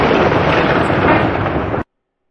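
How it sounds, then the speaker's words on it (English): A lightning strike sound effect: a loud, harsh burst of crackling noise lasting under two seconds that cuts off abruptly into silence. "Oh no, I've been struck by lightning."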